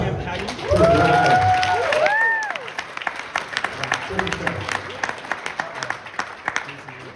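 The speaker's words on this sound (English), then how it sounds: "round of applause" A crowd applauds, a dense burst of clapping that thins into scattered claps, with a few whoops and voices mixed in.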